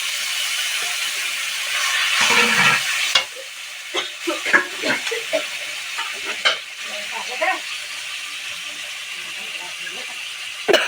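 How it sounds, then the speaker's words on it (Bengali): Spice paste fries in a pan with salt and a splash of water, starting as a loud hissing burst of steam, then settling into softer sizzling with scattered stirring scrapes, while a person talks. "একটুখানি জল দিয়ে মশলাটা কষিয়ে নেব"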